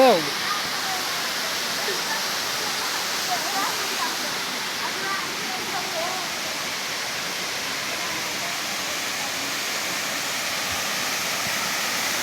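Waterfall near Fuludi temple: a steady, loud broadband rush of falling water fills the whole stretch without letup, with a brief voice at the very start.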